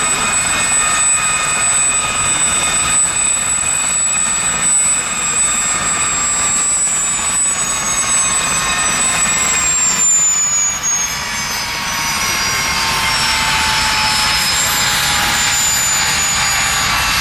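Westland Gazelle helicopters flying in formation at the Cosford Air Show, a loud, sustained turbine whine and rotor roar with a falling pitch as they pass, continuing steadily throughout.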